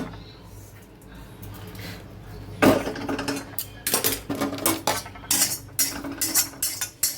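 A spatula scrapes sticky roasted rice off the bottom of a pan, starting quiet, then breaking into repeated close, loud rasping scrapes and metallic knocks with an irregular rhythm.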